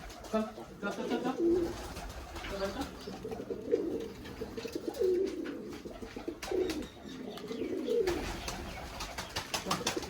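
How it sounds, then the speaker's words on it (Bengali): A flock of local Girebaj pigeons coos while feeding, with soft overlapping calls under a man's nearby speech and occasional rustling and pecking. "ভিউয়ার্স দেখুন একসঙ্গে সব পায়রাগুলি এবার খাচ্ছে"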